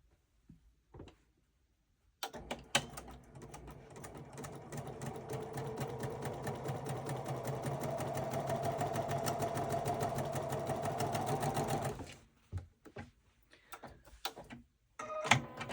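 A sewing machine stitches the binding on a table runner at a steady, moderate pace, giving a continuous whirring hum for about ten seconds before it stops and a few clicks follow.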